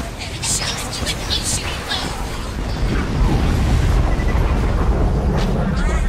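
Explosions go off in the video game Borderlands 2 amid dense gunfire and chaotic combat noise, loud and continuous, with bursts building toward a heavier rumble.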